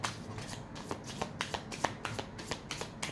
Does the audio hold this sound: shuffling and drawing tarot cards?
yes